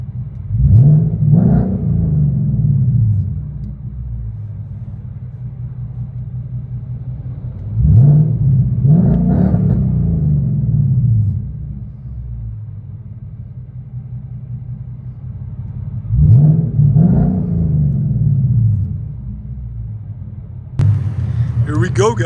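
A Ford Mustang GT 5.0L V8 with a custom H-pipe and Flowmaster Outlaw exhaust revs three times in deep, rumbling bursts, with quieter idle between them and a sharp click near the end.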